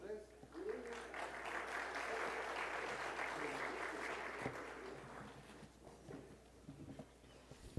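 Sustained applause from a seated audience at a pediatrics college evening session as a doctor walks to the front, steady clapping for several seconds before tapering off, with some voices and shuffling underneath.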